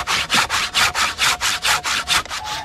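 A hand saw cuts through wood in steady back-and-forth strokes, about a dozen even rasping pulses at a regular rhythm, close and loud with no talking.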